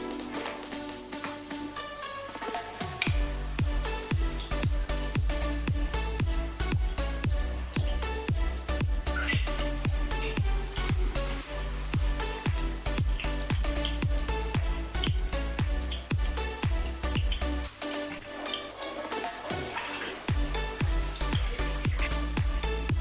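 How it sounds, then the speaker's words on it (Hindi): Kebabs sizzle in hot ghee, a dense, continuous frying hiss with rapid crackles and spatters that grows fuller after the first few seconds, with occasional dull knocks and no talking. "अब घी गर्म होता है तो उसमें हमने कबाब अपने डाल देने"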